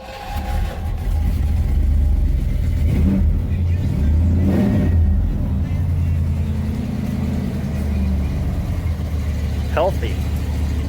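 A pickup truck with a 351 V8 engine revs hard close by, a deep rumbling roar climbing and holding before settling back toward idle, with a person talking over the noise.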